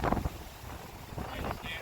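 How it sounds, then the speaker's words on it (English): Strong coastal wind buffets a handheld camera at an old Florida coast guard house of refuge, a steady rumbling roar of gusts with brief bursts of a nearby voice. "It is so windy that my camera is blowing in my hand."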